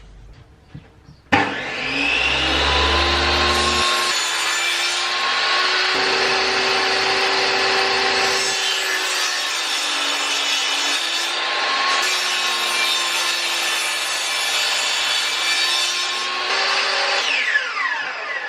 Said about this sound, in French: on va déjà commencer par débiter ma planche de chaîne aux bonnes dimensions